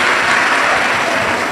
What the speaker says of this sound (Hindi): एक बार शर्मा परिवार के लिए जोरदार ताली बजाकर स्वागत वंदन अभिनंदन।